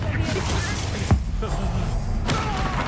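A single dull explosive thud from the Confringo blast spell in the video game Hogwarts Legacy, landing once midway through a steady wash of game ambience.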